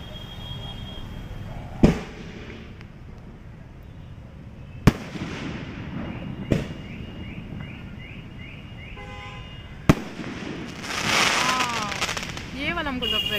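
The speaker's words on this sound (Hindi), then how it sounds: "यहाँ पे थोड़ी सी जो है ना आतिशबाजी हो रही है" Fireworks bang sharply several times at irregular intervals over steady traffic rumble during a wedding procession in Jamshedpur, India, with a crackling, whistling burst near the end and a horn tooting.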